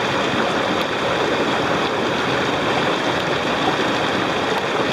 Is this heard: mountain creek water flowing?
yes